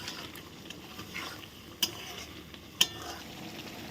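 Paneer pieces are stirred in a frying pan over a faint, quiet sizzle, with soft shuffling and two sharp metallic clinks of the utensil against the pan.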